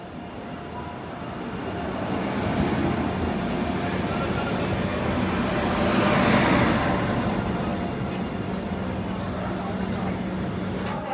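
A superfast express train runs steadily with a continuous loud rumble and rushing noise, swelling slightly midway as if passing something, heard from inside or close by.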